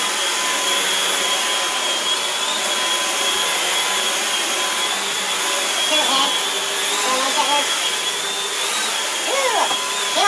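A Shark Navigator Lift-Away vacuum cleaner runs steadily and loudly for the whole stretch, a constant dense whine with faint warbling squeaks drifting over the motor noise.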